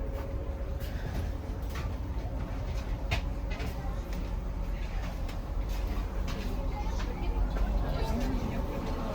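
A full passenger train from Usinsk to Syktyvkar rumbles steadily with rattling and clanking from the carriage, and a hum of people talking nearby underneath.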